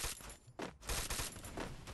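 SMG gunfire in the mobile battle-royale game Free Fire during a solo-versus-squad ranked match, loud rapid bursts of shots with a brief pause partway through, then more rattling fire.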